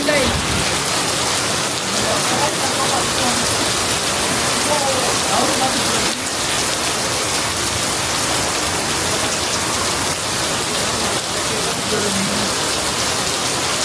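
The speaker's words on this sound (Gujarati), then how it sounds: "વરસાદ જો વરસાદ." Heavy rain falls steadily and loudly during a Janmashtami celebration, a dense continuous downpour on surfaces with faint voices underneath.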